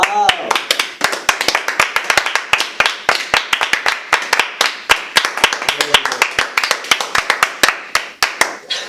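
A small group claps hands in a quick, steady rhythm of sharp, distinct claps, fairly close and loud, with a voice briefly heard in the background.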